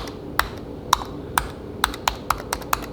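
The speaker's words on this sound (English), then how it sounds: "you hear how clicky those are?" Clicky computer keyboard keys tapped one at a time, about eight sharp, crisp clicks at uneven intervals, close and distinct against a quiet room.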